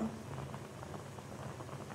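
Sugar syrup boiling in a pan for semolina rasgulla, a steady close bubbling patter with soft pops throughout, no talking.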